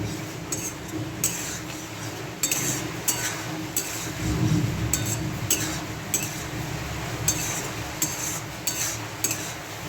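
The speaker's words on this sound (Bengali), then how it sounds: "ডিম ভাপাগুলো এতে দিয়ে দিলাম দিয়ে ভালো করে নেড়ে নেবো" Steamed egg pieces are stirred in a pan, a spatula scraping and clinking against metal at irregular beats over a soft background sizzle.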